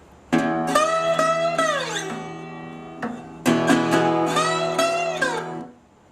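Acoustic guitar playing a blues lick with strummed chords, two bursts of ringing notes and quick up-and-down strokes separated by a brief pause, played close and alone.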